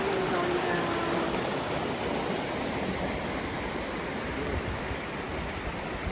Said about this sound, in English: The stream going down.